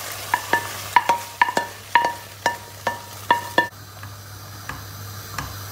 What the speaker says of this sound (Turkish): Çorbamızı iyice bir karıştıralım.